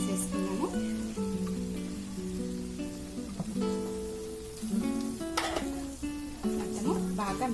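Paneer and peas frying in a pan while being stirred, a steady sizzle with scraping spoon strokes and clinks, close up, with a faint voice in the background.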